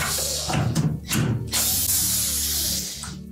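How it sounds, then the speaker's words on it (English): A driver backs out 1/4 inch hex head screws, set at an angle, from the upper plastic housing of a Whirlpool refrigerator, giving close, loud bursts of whirring and ratcheting that stop and restart several times, with no talking. "we need to remove the two screws, one on either side, that hold that upper plastic housing"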